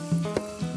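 Garlic sizzling in plenty of hot oil and butter for garlic prawns, a brief close bubbling hiss with a few soft pops.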